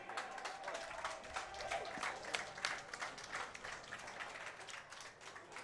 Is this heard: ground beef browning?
no